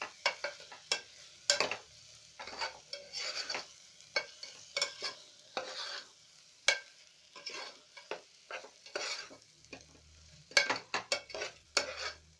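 Repeated scraping and clinking of a utensil stirring spice powders in a frying pan for chickpea masala curry, with a sizzling fry underneath, irregular strokes continuing throughout.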